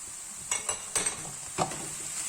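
A spoon stirs a spiced filling sautéing in oil in a pan for stuffed caldis, giving a steady soft sizzle with a handful of scraping clinks and stirring strokes close by.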